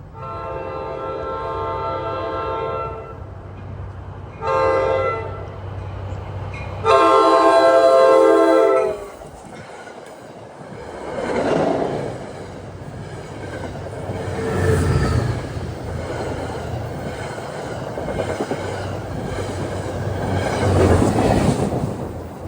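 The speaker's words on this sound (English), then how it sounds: "We got a Hoboken bound train at 528." A long Hoboken-bound passenger train on the ex-Erie Main Line in northern Bergen County, New Jersey, sounds a loud, close multi-note horn in several blasts, then rumbles past with rolling wheel and car noise that swells and fades.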